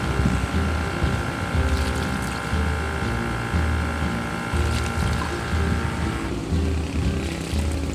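An electric fertilizer sprayer pumps water with a steady, loud motor drone and whirring hum that holds through the whole stretch, changing slightly near the end, with no talk.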